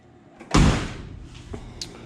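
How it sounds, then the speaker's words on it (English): Doors on a 1971 Chevrolet short-bed pickup truck are shut, giving one loud, solid slam followed by a lighter second closing thud about a second later, with a faint clink after. "Doors shut nice."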